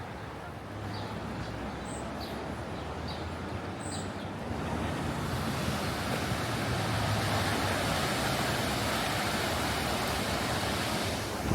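Steady broadband rushing of the Allegheny River flowing under a pedestrian bridge, continuous and fairly even, with a few faint high chirps early on.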